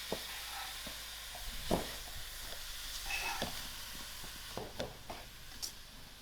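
Soya mince with salt is stirred in a hot pan, a steady low sizzle broken by scraping taps of the spoon against the pan at irregular intervals.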